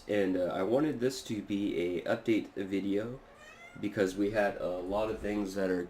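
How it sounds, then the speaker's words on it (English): A house cat meows once or twice, briefly and fairly close, mixed in with someone talking steadily throughout. "Sorry, that was my cat."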